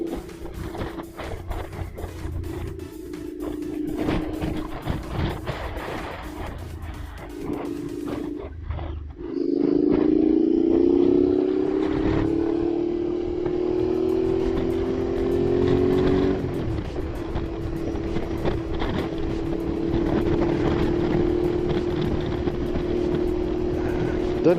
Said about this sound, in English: Don't know if you can hear the sound of the exhaust, but I love it.